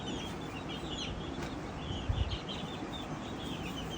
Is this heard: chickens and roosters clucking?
yes